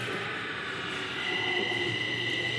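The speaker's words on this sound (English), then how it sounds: "The train is covered with posters for you to have more fun riding it." A Delhi metro subway train runs with a steady, loud rumble and a high whine throughout, heard from inside without talking.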